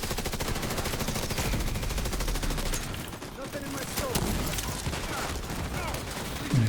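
Rapid bursts of gunfire from a shooter video game crackle continuously through the stretch, dense and loud, with game sounds layered over the shots.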